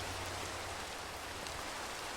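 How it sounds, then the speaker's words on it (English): Steady rain falls outside a traditional Korean hanok house as a soft, even hiss with no speech. "It's raining."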